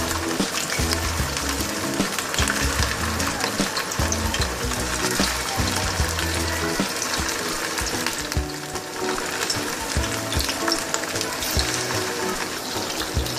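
Soaked rice fries in hot oil in a pot for biryani, giving a loud, continuous sizzle and crackle with faint stirring clatter, close up and without voices.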